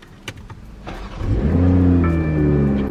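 A BMW M340i in sport mode is started, with a few faint clicks before the engine cranks and fires into a loud, close rev that settles to a rich, steady idle.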